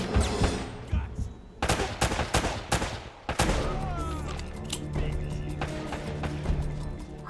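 Bursts of gunfire ring out in Uncharted: Drake's Fortune during a fight with pirates, loud and close, with sharp repeated shots and dense volleys over a layer of game music and ambience.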